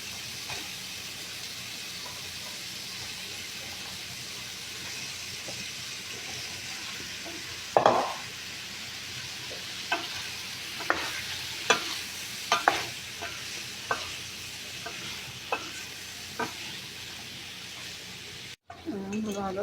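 Squash is tipped into a frying pan of cooking vegetables, the steady sizzle and hiss continuing while a utensil stirs with a run of clinks and scrapes against the pan.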